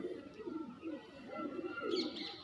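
Soft, rolling coos from pigeons close by, repeating in low burbling phrases, with a faint chirp near the end.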